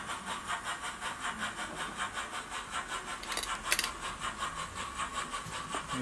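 Rhythmic steam-style chuffing from a Soundtraxx sound decoder in an OO gauge 2-6-2T model tank locomotive pulling away, a steady pulsing beat at moderate volume with a brief sharp hiss burst partway through.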